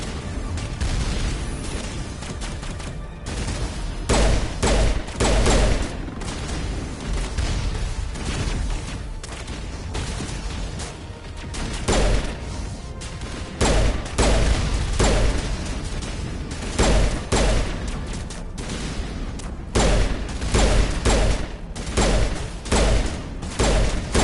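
Gunfire in Mass Effect Legendary Edition pounds a rock in repeated bursts of heavy shots separated by brief pauses, loud and booming over a constant low game rumble.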